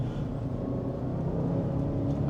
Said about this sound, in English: I think the exhaust and engine sound is a very good combination of muscle and exotic.